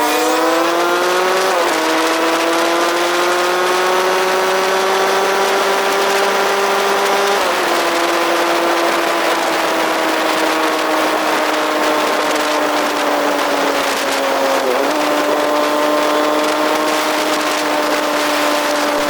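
Motorcycles ride a rough road on a Capiz shortcut to Iloilo, a steady loud engine drone rising and falling in pitch with shifts in speed, continuous and close throughout with no talking.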